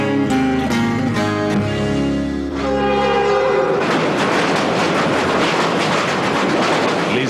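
A Via Rail passenger train sounds its horn in several loud sustained blasts, then rumbles past close by with dense rolling rail and wheel noise.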